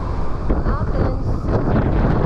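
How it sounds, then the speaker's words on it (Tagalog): Strong wind at the top of Mount Lycabettus in Athens buffets the microphone with a loud, constant roaring rush, and a voice sits faintly beneath it. "lakas ng hangin"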